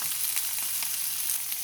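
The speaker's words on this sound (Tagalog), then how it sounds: "I-saute lang po natin hanggang maluto ang bawang at sibuyas." Onion and garlic sauté in a hot pan with a steady, close hiss, the sizzle even throughout with no voices over it.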